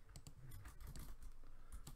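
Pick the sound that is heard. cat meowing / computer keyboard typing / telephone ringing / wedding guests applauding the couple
computer keyboard typing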